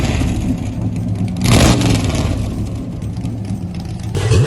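A V8 car engine idles and revs, with a rising burst of acceleration near the middle and another rev at the end, loud and close.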